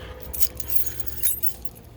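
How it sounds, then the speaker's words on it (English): A bunch of car keys jangles close by in short metallic clinks and rattles spread over a couple of seconds, against a quiet low hum. "and I'll get the keys ready."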